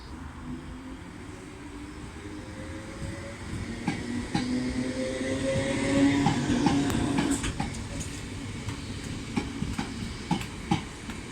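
A British Rail Class 318 electric train passes through Motherwell station, a rising rumble of wheels with rhythmic clicks over rail joints, loud and fairly close, with no talking.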